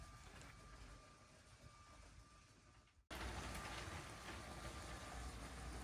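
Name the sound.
LEGO Union Pacific train running on the layout track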